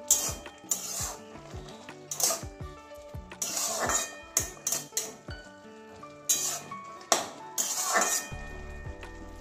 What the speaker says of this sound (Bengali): আবার আবারও ঢাকনা খুলছি।